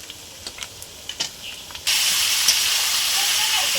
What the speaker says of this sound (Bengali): পেঁয়াজের সঙ্গে চিকেনটা একটু ভেজে নেবো।